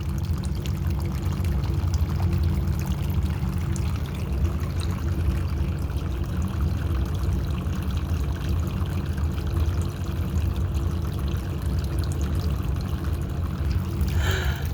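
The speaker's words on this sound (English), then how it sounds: "I'm going to wash the whole thing with vinegar, only with vinegar and water." Vinegar and water are poured steadily for a wash, a continuous close splashing stream with a low rumbling background and no speech.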